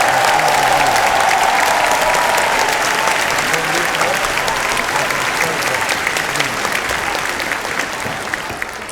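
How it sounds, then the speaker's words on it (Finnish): A concert audience at a folk music festival in Kaustinen gives dense, sustained applause for a composer and lyricist, loud and steady throughout and thinning only slightly toward the end, with a faint voice or tone briefly audible at the start. "Maunollekin taputukset."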